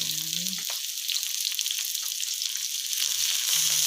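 Shrimp dropped into hot oil in a pan while cooking garlic fried rice, a steady loud sizzle and crackle throughout with brief low clatter near the start and end.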